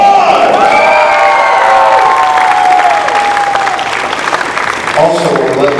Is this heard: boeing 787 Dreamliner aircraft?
no